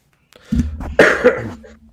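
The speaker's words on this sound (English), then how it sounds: "That was a cigarette smoker cough." A single harsh, raspy smoker's cough, loud and close, with a rough throat-clearing quality, followed by a brief trailing rasp.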